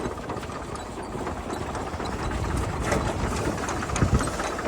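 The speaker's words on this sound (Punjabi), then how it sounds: "ਦੂਜੇ ਗੇਅਰ 'ਚ ਚੱਲਦਾ ਜੀ ਟਰੈਕਟਰ" A new tractor engine runs slowly in second gear in a potato field, a steady close, mid-to-low rumble holding for the whole stretch and swelling slightly near the end, with no talk over it.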